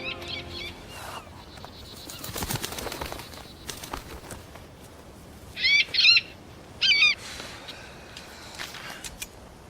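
A bird, tagged as an owl, gives two short bursts of calls out in the open, loud and close against a quiet background after some faint rustling and movement.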